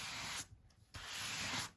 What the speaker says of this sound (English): then you take your sanding block